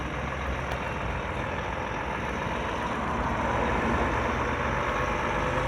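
A heavy truck hauls the Air Raid fairground ride into DW Stadium in Wigan, its engine a continuous low rumble that stays close and steady, swelling slightly toward the end.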